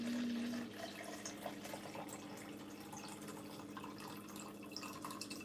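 Water pours from a Brita filter pitcher into a colour-changing cup with confetti colours inside, a soft steady trickle and splash that runs for several seconds, close by and fairly quiet, with a faint hum at the start.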